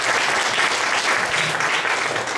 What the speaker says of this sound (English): Let's give a round of applause to YP.